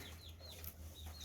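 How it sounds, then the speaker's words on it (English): A flock of hens with three roosters in their coop gives a few soft, faint clucks and murmurs close by, with no voices over them. "there's 3 roosters in there and a bunch of hens."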